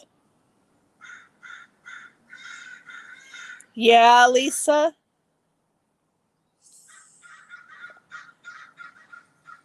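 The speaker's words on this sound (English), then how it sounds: "Birds are nice." Crows cawing outdoors in a repeated series of harsh calls, with a brief burst of close human speech breaking in midway before the cawing resumes, fainter.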